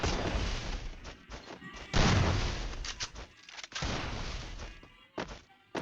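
Gunfire in the Free Fire video game during a one-on-one custom match, with repeated bursts of shots and heavy impacts in loud clusters and brief gaps between volleys.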